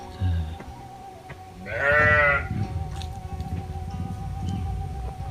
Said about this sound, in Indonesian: di depan saya ini ada domba ya, kandang domba sahabat